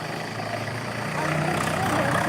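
An empty tractor idles nearby, its engine a steady low rumble with a rough mechanical texture that swells slightly louder toward the end.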